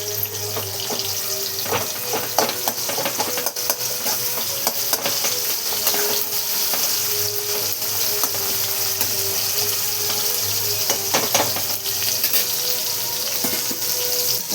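Cumin and tomatoes frying in a pan, a continuous busy sizzle with scattered crackles and stirring clatter, close and loud throughout with no talk.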